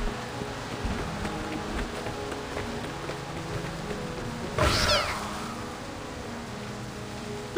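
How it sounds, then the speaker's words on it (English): Splinter cats in the game Reverse: 1999 give a sharp, rising cat-like meow midway, heard over a busy background of rain and soft ambient sound. "What are all these splinter cats doing here?"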